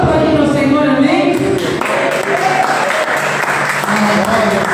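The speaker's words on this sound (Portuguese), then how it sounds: "Vamos aplaudir ao Senhor." A church congregation applauds during a worship service, a loud, steady wash of clapping that fills the room while voices carry over it throughout.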